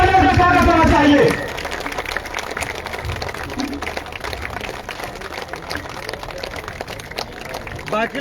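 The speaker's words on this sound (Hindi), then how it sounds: "ताली रुकनी नहीं चाहिए, जोरदार तालियों से स्वागत होना चाहिए।" After a loudspeaker voice at a workers' meeting in Maharajganj, a steady crowd of clapping hands carries on, a broad rattling applause that fills the rest of the moment.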